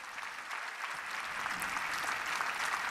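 A large crowd at a papal general audience applauds Saint Catherine of Siena with dense, continuous clapping that rises slightly and holds steady for the whole stretch.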